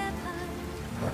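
Heavy rain pours steadily in a brief, dense wash of close, even noise, with no voices over it.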